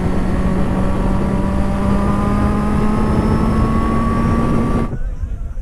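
At a large motorbike gathering in Ibatiba, Brazil, a nearby motorcycle engine drones loudly and steadily, its pitch creeping upward before dropping away near the end as other engine noise continues.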